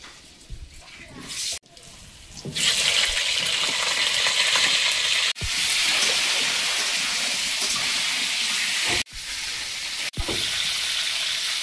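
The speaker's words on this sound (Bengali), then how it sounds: "তেলে একটু লবণ দিয়ে আলুগুলো ভেজে নেব।" Potatoes frying in salted oil in a wok give a loud, steady sizzle that surges in after a short quieter stretch, broken by a few sharp drops and stirs, with no voices over it.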